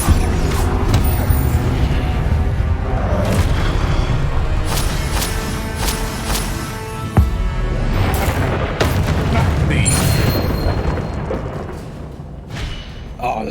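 Confringo blasting spells from Hogwarts Legacy go off as loud, repeated booming explosions and thuds over a dense battle soundscape, with heavy impacts through much of the passage and a voice over the top.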